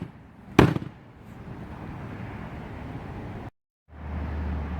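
One sharp thud of a fist striking a thick 1.25 to 1.5 inch trampoline spring pad, a single loud impact followed by a low steady background hum.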